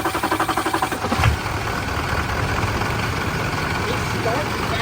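A Duramax diesel pickup engine cranks with rapid starter pulses, catches and settles into a steady, loud idle close by.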